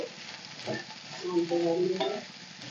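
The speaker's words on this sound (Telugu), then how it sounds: "మధ్య మధ్యలో కలుపుతూ మనం ఫ్రై చేసుకోవాలండి" Potato pieces fry in oil as they are stirred, giving a soft, close sizzle with a few scraping stirs that swell briefly in the middle and then fade. No one speaks.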